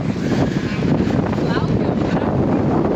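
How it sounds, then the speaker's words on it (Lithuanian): Steady wind rushing across the microphone outdoors on a trip to Venice, a constant broadband roar with faint traces of voices under it. "Pakilo vėjas."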